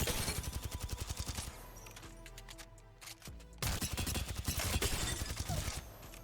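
Submachine gun in Apex Legends fitted with a blue laser sight, emptying a full magazine in rapid sustained bursts with a short lull midway, loud and close with no talking.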